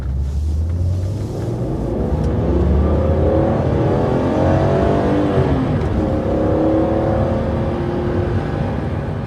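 Stock BMW E46 M3 engine heard from inside the cabin, a loud, steady droning rumble that rises and falls with revs and road noise, with no talking.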